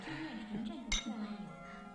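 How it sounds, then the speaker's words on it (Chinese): Glasses clink together in a celebratory dinner toast at a family table, one bright short clink standing out briefly amid overlapping voices of people talking and cheering. "咱们干杯！ 干杯！"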